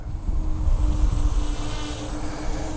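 A LYZRC L100 drone flies nearby in warm weather, giving a steady, close propeller buzz with a constant pitch and a whining overtone that holds throughout.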